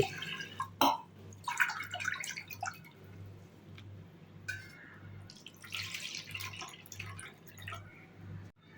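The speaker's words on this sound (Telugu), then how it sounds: "1 కప్పు బియ్యం కుక్కర్లో వేసుకొని శుభ్రంగా వాష్ చేసుకోవాలి" A cup of rice washed by hand inside a pressure cooker pot: water sloshes and drips in irregular bursts, fairly close, over a steady low electrical hum, with no talking.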